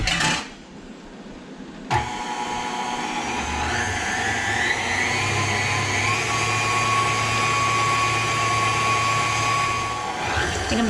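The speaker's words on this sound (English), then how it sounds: "I think I'm just going to let it go around a little bit with the whisk" A mixer whisks cream cheese pound cake batter with walnuts and glaze. A steady, fairly loud motor whine starts abruptly and holds an even pitch for several seconds before cutting off near the end, with no talk.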